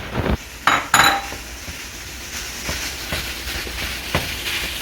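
Ground beef and pork dropped into a pan for Filipino-style spaghetti sauce, clattering utensil and pan knocks up front, then a steady low sizzle with occasional scrapes, close.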